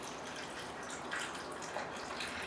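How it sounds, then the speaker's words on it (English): Water is poured into a blender holding dates, a soft, continuous trickling splash heard close up and fairly quiet, steady from start to finish. "and then I'll put 100 gram of water"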